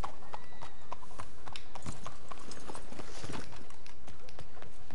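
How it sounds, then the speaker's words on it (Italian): Hooves clatter in quick, irregular clip-clops as a horse climbs a staircase in the video game Red Dead Redemption 2, with crisp, close knocks repeating throughout. "ho addestrato il cavallo a salire le scale."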